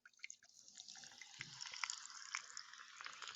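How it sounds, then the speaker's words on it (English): Liquid is poured in a quiet, close ASMR-style take, giving a soft continuous trickle with small drips and splashes that build a little over a few seconds, with no speech. "And here's the pour."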